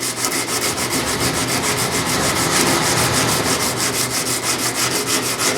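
Hand polishing of a sword blade, rubbed up and down from edge to spine: a steady, rhythmic abrasive scraping with fast regular strokes, close and continuous throughout.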